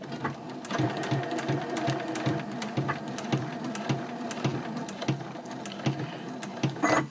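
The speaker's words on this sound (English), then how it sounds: "we're just going to go over to the sewing machine and stitch all around the bag on each one of these marks" A sewing machine stitches around the marked lines of a reversible drawstring gift bag at a 2.4 stitch length, a steady close mechanical whir with rapid needle ticks running continuously with brief pauses.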